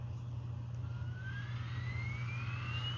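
Sound effect from a brass PRR B6sb 0-6-0 model switcher locomotive: a steady low drone with a faint rising whine, continuous and moderately loud, with no talking.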